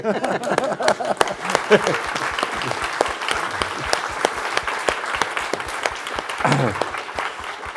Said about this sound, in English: Well, I think that's worth applause anyway.